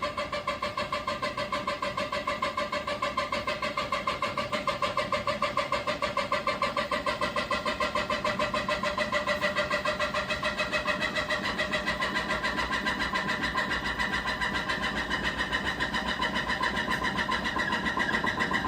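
A steady mechanical whirring drones on without a break, an LG 7.5 kg inverter washing machine drum spinning fast at a constant pace, moderately loud and close.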